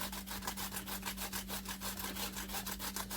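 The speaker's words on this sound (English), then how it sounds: "grating the rest of these cucumber" Cucumber rubbed against a metal grater in quick, steady back-and-forth strokes, a regular rasping scrape repeating about four times a second, close and alone over a low background hum.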